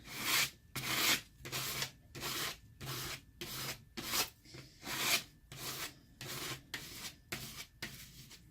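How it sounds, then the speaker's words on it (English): A card scrapes paint off a journal page in repeated rhythmic strokes, about a dozen close, rough rasping pulls with short pauses between them. "I'm going to get my trusty card out here and pull some of this paint off of here. And scrape it down."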